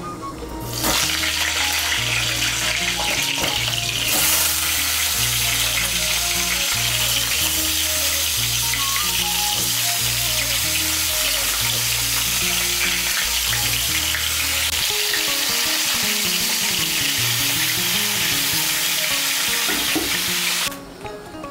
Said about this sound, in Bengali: পটলগুলো ভাজার জন্য এখানে কড়াইতে সর্ষের তেল বসিয়েছি